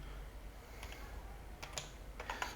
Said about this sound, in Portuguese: Eu estou digitando aqui os códigos